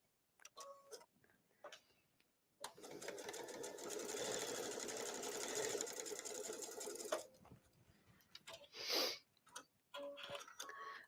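A sewing machine topstitches denim jeans in one steady, close run of about four and a half seconds, framed by brief clicks and handling noises before and after.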